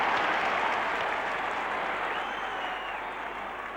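Capacity football stadium crowd applauding and cheering after a Richmond goal in a 1972 Australian Rules match, a dense, steady roar of clapping that fades slightly toward the end, with no clear talk.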